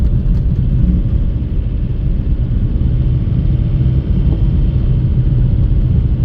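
BMW 320d E91 with the N47 diesel engine and a faulty timing chain tensioner, a steady low rumbling idle clatter running continuously and close, with no voices.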